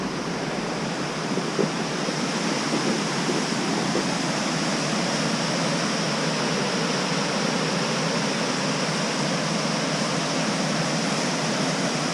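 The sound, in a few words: waterfall in Kings Canyon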